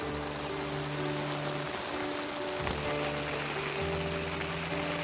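Heavy rain falling steadily on flooded rice paddies during planting season in the Konkan countryside, a constant soft hiss with no talk.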